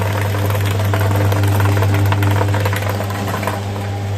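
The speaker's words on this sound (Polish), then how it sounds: "Włączamy maszynę i dusimy na dźwignię." An electric drain cleaning machine runs steadily with its rotating spiral fitted with a special cleaning tip, giving a loud, continuous motor hum and rattling whir with no talk.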